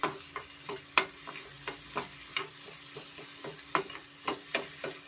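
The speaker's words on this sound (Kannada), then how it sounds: "ಇವಾಗ ಇದಕ್ಕೆ ನಾನು ಕ್ಯಾಪ್ಸಿಕಮ್ ಸೇರಿಸ್ಕೊತಾ ಇದ್ದೀನಿ ಸ್ವಲ್ಪ ನಾವು ಬಾಡಿಸ್ಕೊಂಡು ಸಾಕಾಗುತ್ತೆ" Capsicum sautéing in a pan for a vegetable masala bread roast, a steady soft sizzle broken by a spatula's repeated sharp scrapes and taps against the pan, close and clear with no talking.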